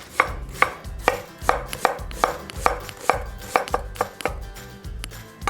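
A knife coarsely chops onion on a cutting board for French onion soup, giving about a dozen crisp, evenly paced thuds in a steady rhythm, close and clear with no voices.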